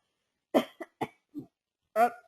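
A few short, sharp coughs in quick succession, close up, followed by a final louder cough after a brief pause.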